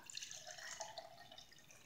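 Water pours into a cup until it is half full for a buoyancy experiment, a soft, steady trickling splash heard close and fairly quiet, with no talking.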